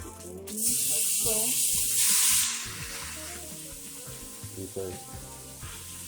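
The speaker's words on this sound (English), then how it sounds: "It's heated up. So we got the pork belly, pork shoulder mixture. We're just gonna dump it in like so." A sudden loud sizzle erupts as a pork belly and pork shoulder mixture hits hot grapeseed oil in a pan, then settles into a steady, softer frying hiss while someone talks over it.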